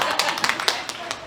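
A comedy show audience gives a short burst of scattered claps, fairly close, while someone talks over them.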